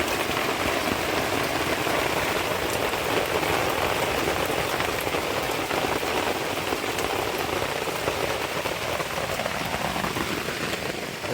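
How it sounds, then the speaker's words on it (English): Heavy rain pours down on a campsite at night, a dense, unbroken roar of drops drumming close by for the whole stretch, loud and constant with no voices over it. "Don't know if you can even hear me over the rain."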